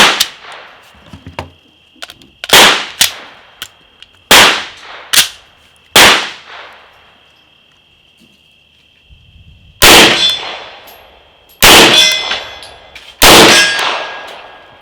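An MP5 fires rounds from a KCI magazine loaded with 115 grain full metal jacket and 147 grain ammunition: sharp, loud single shots in uneven bursts, separated by quiet gaps with a faint steady ringing tone.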